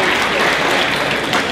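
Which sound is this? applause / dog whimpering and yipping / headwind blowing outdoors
applause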